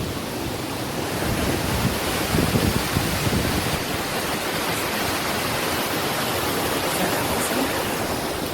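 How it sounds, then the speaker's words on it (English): Steady rushing water flows close by, a dense, unbroken hiss that stays constant from start to finish. "Hopefully you can hear me over the water because I'm near water."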